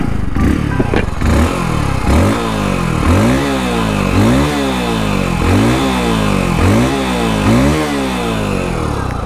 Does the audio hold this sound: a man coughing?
no